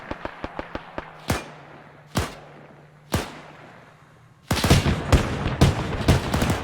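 Gunfire in Arma 3 during a German WW2 paratrooper air raid: a rapid string of sharp shots, then a few spaced heavy cracks, then a dense loud burst of overlapping fire, with no talk.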